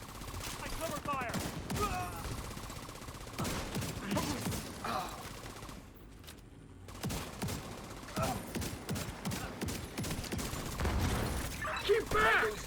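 Covering gunfire in a video game: a steady stream of close shots and mechanical clatter that keeps going, with brief louder bursts and a short lull partway through, under an excited voice talking.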